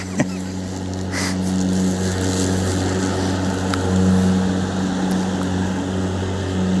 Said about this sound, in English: this is my father who's driving the tractor at the moment